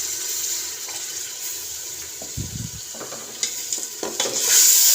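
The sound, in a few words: water added to sizzling daal mash being stirred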